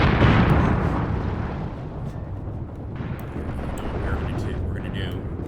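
Light mortar shells going off along a winter front line in the war game Graviteam Tactics Mius Front, heard as a dense, continuous rumble of blasts. Someone talks over the noise throughout.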